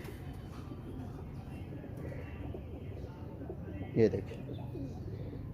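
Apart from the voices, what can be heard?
pigeons cooing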